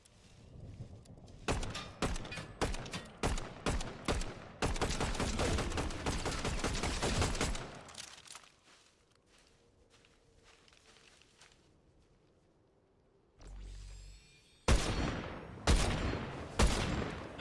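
Gunfire in Fortnite: rapid bursts of shots from a weapon, some spaced single cracks and then a long sustained volley, a quiet gap with faint footsteps, then more close, loud automatic fire.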